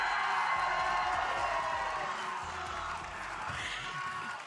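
A distant esports arena crowd at a Valorant VCT Americas match roars and cheers in a sustained wash of noise that slowly fades, with no clear single voice.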